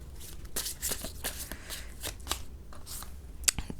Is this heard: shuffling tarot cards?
yes